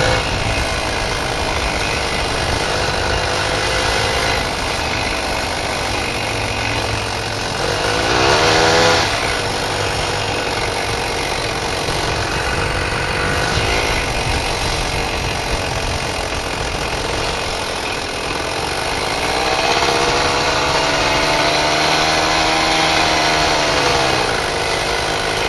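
A vehicle engine drones loud and steady while rolling slowly at about 15 miles an hour past garages, its pitch shifting slightly with a couple of swells.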